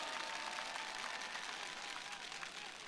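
Sustained applause from an outdoor union rally crowd of delivery workers, a dense steady clatter of many hands filling the whole stretch at an even, moderate level with no voices standing out.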